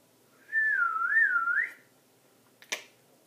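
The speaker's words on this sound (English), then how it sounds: "Can you whistle?" A person whistles a short wavering tune lasting about a second, clear and close, followed by a brief sharp click or snap, with no talking.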